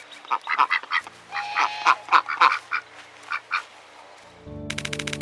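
A goose named Buttercup, fitted with a 3D-printed replacement foot, honks in a rapid run of about a dozen nasal calls close by, then goes quiet as music starts.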